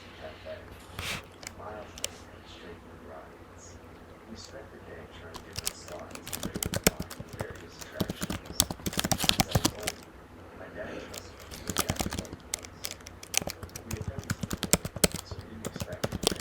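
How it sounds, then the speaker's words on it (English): Fingers type on a computer keyboard at close range, irregular bursts of clicking keystrokes with short pauses between them, and a voice speaks over part of it. "so I can keep typing"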